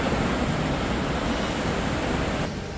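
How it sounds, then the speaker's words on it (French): The falls of the Brador River in a small canyon roar as a steady, dense rush of water, loud and close, with some wind mixed in. "checkez ça, les chutes de la rivière Brador."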